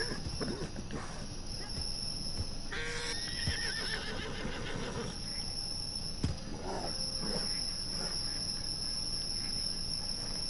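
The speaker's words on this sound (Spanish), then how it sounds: "Intento darle comida a mi caballo," A horse in a video game whinnying while being fed, short neighs over a constant chirp of crickets and a steady background hiss, with occasional hoof steps and a voice talking.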